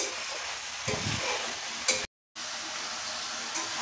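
Raw soaked chickpeas sizzle and fry in a pan while being stirred, a steady close hiss with brief scraping bursts from the spatula.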